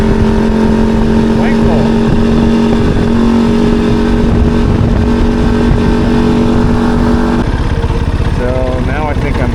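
Loud motor noise passes close by: a group of Mazda RX-7 cars driving past, with engine drone and rising revs near the end, mixed with a steady motorcycle engine hum. A voice briefly speaks over it.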